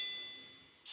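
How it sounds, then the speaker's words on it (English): An interval bell in a fitness class rings a short bright ding, faint and alone, after a fading tone from the previous chime. "Get ready to go on the bell."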